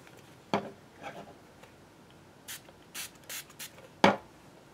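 A few quick spray bursts of matte finish cleaner hiss out from a small bottle onto a knife handle, separated by faint handling clicks and taps in an otherwise quiet space.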